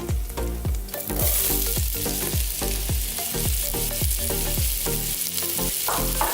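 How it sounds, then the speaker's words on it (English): Onions and carrots sizzling in a hot pan for homemade chicken soup, a loud, steady hiss with rhythmic stirring knocks repeating roughly every half second. "Alright, so I added my onions and my carrots."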